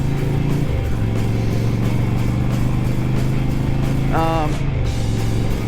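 A large tractor engine drones steadily and loudly up close, its deep rumble shifting pitch briefly as it moves past.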